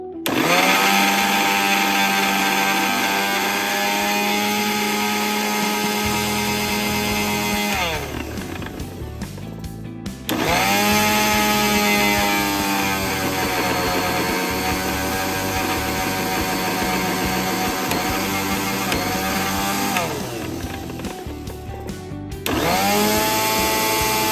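A mixer grinder motor with a sound problem, under repair, whines loudly and steadily, cutting off briefly twice before starting up again, with no voices.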